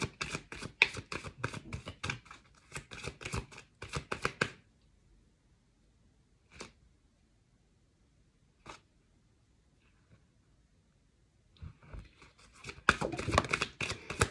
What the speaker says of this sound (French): Je vais tirer encore des cartes, mes amis.